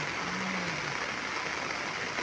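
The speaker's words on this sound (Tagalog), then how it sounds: "sobrang lakas ng ulan dito sa amin" Heavy rain pours down steadily outdoors beside a river, a constant loud hiss of water with no breaks and no voices.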